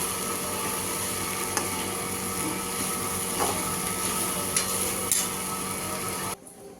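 Poha being stirred in a pan for kanda poha, a steady scraping and rustling of flattened rice against the metal with occasional spoon clinks, close and continuous, stopping abruptly near the end.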